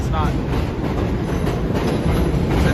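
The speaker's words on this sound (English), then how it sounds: "the trains are passing by and it's rush hour time" Trains passing by in Astoria, Queens, New York City, a loud, steady rumble of rail cars with rolling wheel noise close by and a faint high squeal near the start.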